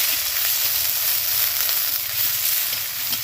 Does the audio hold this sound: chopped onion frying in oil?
yes